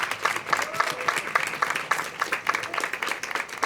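Audience applause at a talk about a dance law at a university, sustained dense clapping with some crowd noise, fairly steady throughout.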